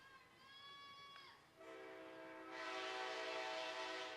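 A passenger train rolls past near a baseball field during a night game, its horn sounding in steady sustained tones that shift pitch, then broad rumbling rail noise swelling louder as it passes close by.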